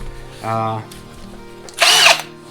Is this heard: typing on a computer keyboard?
no